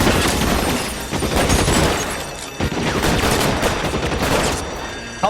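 Sustained bursts of Thompson submachine gun fire in L.A. Noire, with rapid overlapping shots and a short lull partway through, loud and close, mixed with scattered other gunshots.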